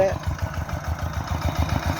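A small walk-behind tractor engine, a Kubota, chugs steadily at idle with a regular low thumping rhythm, close by, continuing throughout without pause.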